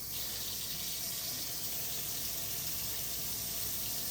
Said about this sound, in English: we want to kick on some water flow